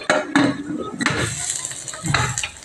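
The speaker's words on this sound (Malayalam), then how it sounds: "നമുക്ക് കുക്കർ അടച്ചു വയ്ക്കാം" A metal pressure cooker lid is handled and fitted closed, producing several clanks and scraping knocks of metal on metal, close and fairly loud, spread across a few seconds.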